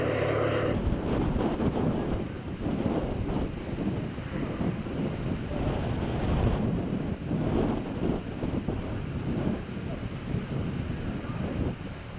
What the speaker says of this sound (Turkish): Yani rüzgar çok şiddetli baksanıza berbat.